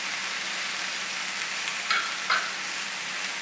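Cumin and other spices toasting in a hot pan, giving a steady, soft, close sizzle with two brief crackles partway through.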